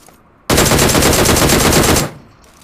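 An MK rifle in PUBG Mobile fires a rapid, loud burst lasting about a second and a half, a dense string of shots that starts abruptly and cuts off cleanly.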